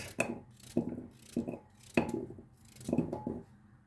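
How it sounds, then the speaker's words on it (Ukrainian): Repeated sharp knife chops cutting pumpkin into pieces on a board, about six cuts in an uneven rhythm, close by and fairly quiet. "Ось я в неї буду нарізати такими шматочками гарбуз."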